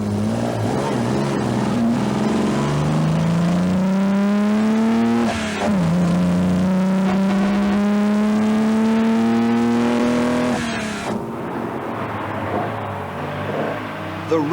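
Classic rally cars, a Healey Silverstone and an AC Cobra, race hard with a loud, sustained engine drone that climbs steadily in pitch, drops briefly as a gear changes, then rises again before easing off near the end.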